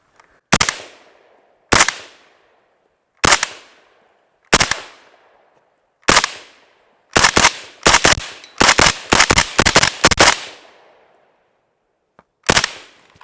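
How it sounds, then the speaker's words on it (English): A suppressed AK-74 (SGL 31) rifle fires outdoors: several spaced single shots, then a quick string of rapid shots and one final shot, each a sharp crack with a short decay and no talk. "But with the suppressor on there, it still shoots so nice, so soft."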